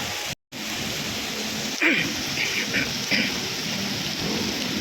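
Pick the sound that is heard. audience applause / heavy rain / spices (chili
heavy rain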